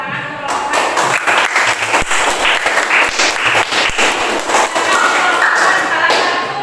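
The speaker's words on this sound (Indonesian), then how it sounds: "Beri tepuk tangan untuk kelompok 4." A classroom of students claps for a group that has just finished presenting, loud and close, with uneven individual claps and occasional thuds over a dense wash of applause that runs throughout.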